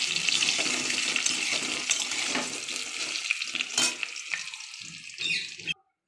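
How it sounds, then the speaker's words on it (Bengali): Potatoes fry in a pan of oil with a steady, dense sizzle and crackle, thinning out toward the end before stopping abruptly. "আমার আলু ভাজা হয়ে গেছে।"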